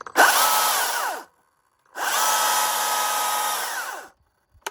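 A Stihl MSA 220-C battery-powered chainsaw, single speed, runs in two bursts, each a loud steady high whine that starts sharply and winds down, with a short silent gap between them.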